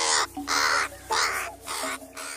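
A crow caws four times in loud, harsh bursts spaced about half a second apart, close and clear.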